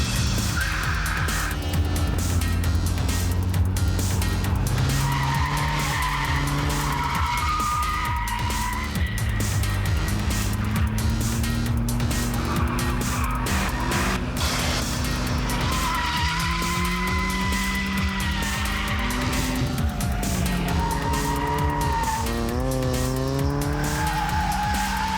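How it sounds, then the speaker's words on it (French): A Mazda RX-7 with a rotary engine drifts with its tires skidding, the engine revving hard and the tires squealing loudly and continuously in long wavering tones throughout. "qu'est-ce qu'on doit faire pour faire partir la voiture comme il faut en dérapage?"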